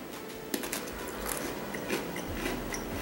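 A Blueberry Pie Oreo, a graham-style sandwich cookie, gets bitten close to the mic with a soft crunch, followed by a few quiet chewing sounds against faint room noise.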